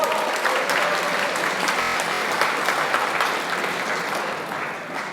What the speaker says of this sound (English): just clap yourselves and pat yourselves on the back